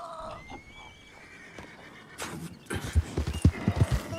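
A horse whinnies in the video game Red Dead Redemption 2, then hooves clip-clop in a quick, uneven rhythm, fairly close, with no speech over it.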